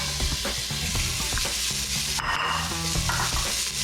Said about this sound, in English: And add some cardamom seeds and some whole black peppers, and then some onions